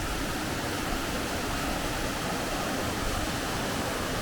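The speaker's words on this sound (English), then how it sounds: "Another little bit of a waterfall as well." A small waterfall tumbles inside a narrow canyon, giving a steady, dense rush of falling water that stays loud and unbroken throughout, with no voices.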